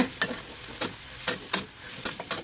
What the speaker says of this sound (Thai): คลุกเคล้าให้เนื้อกระหล่ำปีพอสลบ แล้วก็เนื้อทุกอย่างสุกทั่วเข้ากันนะคะ